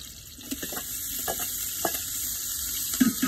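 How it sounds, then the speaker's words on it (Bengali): Chopped onions dropped into hot oil for khichuri cooked at a village home on a winter night, giving a soft, steady sizzle with a few light stirring clicks and taps, fairly faint. "তেল দেওয়া শেষ তারপর আমরা এই যে পেঁয়াজ কুচি এগুলো দিয়ে দিব সব গরম দেখে"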